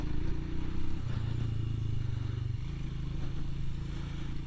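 Royal Enfield Himalayan adventure motorcycle ridden off-road, its low single-cylinder engine thrumming steadily with pitch shifts as the throttle changes, plus some rattle, with no talking.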